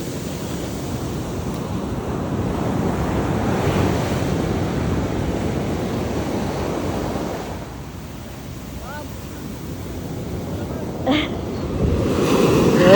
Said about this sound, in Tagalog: I love the strong waves